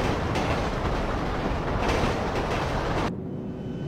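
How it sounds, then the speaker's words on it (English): A train rolling along tracks in a Rockstar video game, a loud steady rumbling roar with faint rhythmic clatter that drops away abruptly near the end. "There is a rock that sticks out over the train tracks, causing it to clip through the train."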